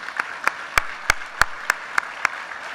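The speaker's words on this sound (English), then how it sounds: "let's give everybody a round of applause for that." Slow, evenly spaced claps, about nine sharp hits in under three seconds, sound fairly faint and thin at a New York City mentoring organization's 2018 benefit gathering. No one speaks over them.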